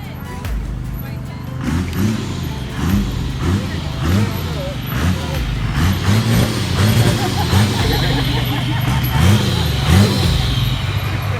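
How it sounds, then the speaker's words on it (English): A father's old truck, running while being pulled out by a four-wheeler, gives a steady engine drone. Rising and falling revving or whining tones ride over it, and there is continuous background noise throughout. "The truck is running, obviously"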